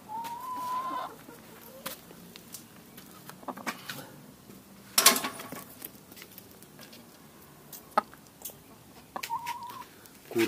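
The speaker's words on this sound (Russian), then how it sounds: "Вот эти курочки несут вот эти яйца" Egg-laying hens cluck softly and steadily in a coop, with occasional sharper squawks and a few scattered knocks and rustles.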